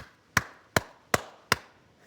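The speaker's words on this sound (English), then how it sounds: "They make the 5R3 coda," Four sharp, evenly spaced sperm whale clicks, a 5R3 coda, ring out in sequence with short decays and silence between them, crisp and fairly close, in the Caribbean.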